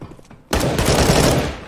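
Gunfire in CS:GO erupts abruptly after a quiet moment into a loud, sustained burst of rapid shots that lasts about a second.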